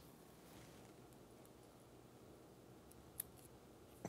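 Scissors snip away excess material at a fly-tying bench, a faint, quiet cut with one small crisp click near the end over a soft background hush.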